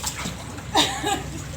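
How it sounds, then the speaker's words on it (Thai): Water splashes close by as someone swims, with a sharp burst of spray near the middle followed by a smaller splash and lapping water. "อันนี้ว่ายน้ำนะคะ ว่ายน้ำแบบนี้"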